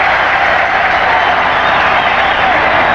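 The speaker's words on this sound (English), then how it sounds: "And the crowd roars." A packed stadium crowd at a 1985 professional football game between the Birmingham Stallions and Jacksonville Bulls roars in a loud, continuous wash of cheering and clapping that never lets up.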